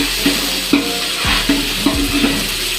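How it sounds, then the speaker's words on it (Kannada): Green chillies frying lightly in a pan, a soft sizzle broken by several distinct scrapes and taps of a spoon stirring against the metal, close and fairly loud, with no talking. "ಇದನ್ನು ಲೈಟಾಗಿ ಫ್ರೈ ಮಾಡಿಕೊಂಡು ಗ್ರೀನ್ ಪೇಸ್ಟ್ ಮಾಡ್ಕೊಳ್ಳಿ."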